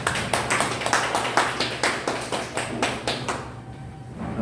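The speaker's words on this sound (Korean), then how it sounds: "조내현 선교사님 잠깐 일어나 주시고 박수로 환영하겠습니다" A church congregation claps in welcome for a newly arrived missionary, a dense steady round of applause at close range that tapers off after about three seconds.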